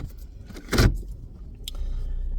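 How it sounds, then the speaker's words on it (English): Someone climbs into a pickup truck on a snowy day, with a loud jangle of keys and a door or seat clunk near the start, then a brief metallic rattle and a steady low cabin rumble with no talk. "I'm just getting in my truck"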